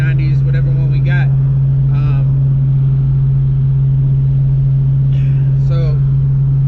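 A Foxbody Mustang with a Ram HDX clutch cruises at 55 mph on the highway at about 2,000 RPM. Its engine gives a steady, loud low drone, and someone talks over it at intervals.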